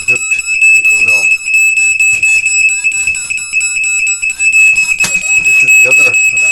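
A smoke alarm blares loud and close, a rapid high-pitched pulsing beep that repeats without a break from start to finish.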